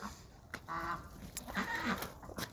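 A turkey gives two honking, gobbling calls about a second apart, over a steady background hiss.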